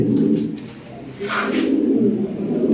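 Fancy Lahore pigeons cooing close by, a steady, low, throaty rolling coo that swells and dips and carries on through the whole short stretch with no talk over it.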